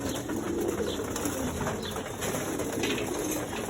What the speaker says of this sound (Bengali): 25-26টা কবুতর আছে,